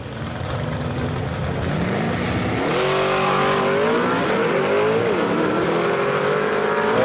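A vintage gasser drag race car, the old car of Rick Cathcart, accelerates hard down the Knoxville strip, its loud engine note climbing through the gears over a steady roar.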